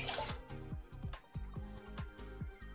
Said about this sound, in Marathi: सेम त्याच वाटीने मी आता पाणी घेतो बरं का